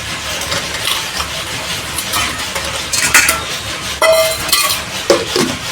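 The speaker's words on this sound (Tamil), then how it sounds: "இப்போ இதை மிக்சியில் போட்டு அரைச்சிக்கலாம்" A mixer grinder whirs steadily as it grinds Oreo cake ingredients in its jar, a loud continuous motor drone with rattling contents, brief knocks near the end and no voices.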